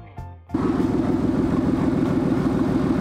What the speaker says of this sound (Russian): В автомобиле срезали полностью весь глушитель. И поэтому такой у нас звук.